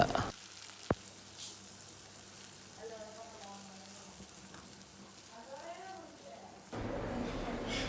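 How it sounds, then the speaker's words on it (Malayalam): Sliced onions fry in coconut oil with a steady, soft sizzle that runs the whole time, and the sizzle grows louder near the end. A voice talks over it. "അതേ വെളിച്ചെണ്ണയിൽ നമ്മൾ അരിഞ്ഞു വെച്ച സബോള അതിൽ ഇട്ട് മൂപ്പിച്ച്"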